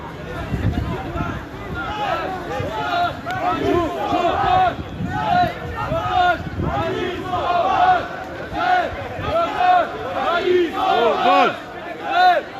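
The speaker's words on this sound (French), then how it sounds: "on a un gros mouvement de foule qui est en train de se préparer là" A surging crowd of protesters in a Paris street during a demonstration, loud chanting and shouting voices rising and falling in waves, close and continuous over several seconds.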